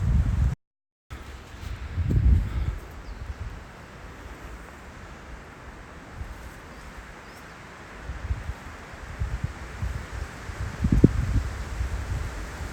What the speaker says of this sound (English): Yeah, the wind's starting to pick up.